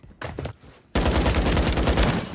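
Gunfire erupts in a battle royale game: a brief burst of shots, a short lull, then a loud, sustained rattle of rapid automatic fire close by.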